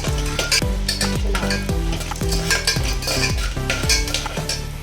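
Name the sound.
spices (shahi jeera, cinnamon) frying in a pan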